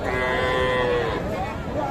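Small calves moo continuously and loudly at a crowded village cattle market, with several animals lowing over one another against busy background noise.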